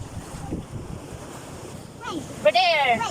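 Sea waves and gusty wind at a seaside pier, a rumbling wash of surf with wind buffeting the microphone, then a voice rising loudly over it near the end.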